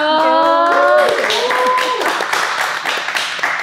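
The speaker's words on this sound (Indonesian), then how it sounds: "Tepuk tangan dulu dong." An audience applauds a guest, the chair of Indonesia's parliamentary Commission I, at a talk show. Scattered clapping builds under a host's voice, then continues as a steady patter with a few sharper individual claps.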